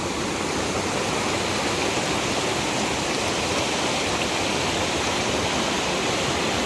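A river rushes through the Indonesian jungle with a steady, loud, broadband roar of flowing water that stays constant throughout, with no voices.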